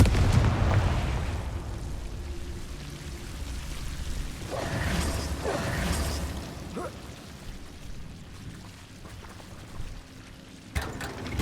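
The Confringo spell in Hogwarts Legacy sets off fiery explosions, a few deep booming blasts with rumbling bursts in the middle of the clip over a low background drone, and no one speaking.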